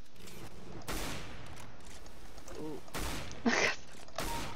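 Gunfire in Counter-Strike: Global Offensive, a few short bursts and single shots spaced through the moment, with a person talking between them.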